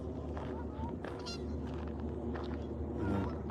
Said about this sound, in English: These geese are very, very noisy.